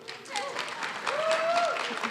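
Applause from an audience at RubyConf AU 2023, a faint, moderate patter of clapping with a couple of whoops rising above it, heard briefly and at some distance.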